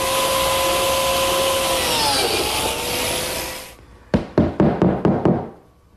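A biscuit joiner runs against a clamped level as a straight edge, cutting slots in a wooden tabletop: a loud whining motor whir that winds down, then five or six sharp knocking clunks in quick succession.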